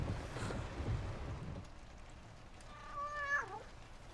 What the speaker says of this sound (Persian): گربه هست